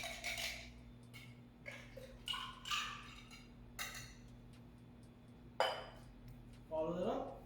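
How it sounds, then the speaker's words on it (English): Ice cubes dropped into a cocktail glass while mixing a Vodka Peachy with peach schnapps, heard as a few sharp, close clinks and rattles spaced apart over a low steady hum. "Add the ice."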